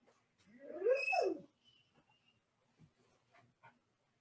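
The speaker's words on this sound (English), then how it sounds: "I don't know if you heard my dog making noise in the background there a second ago" A pet dog in the background gives one drawn-out whining bark-howl in a quiet room, followed by a few faint scattered knocks and rustles.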